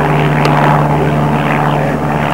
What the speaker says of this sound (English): Australian aeroplane.